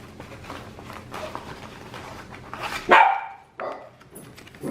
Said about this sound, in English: Some dogs, apparently.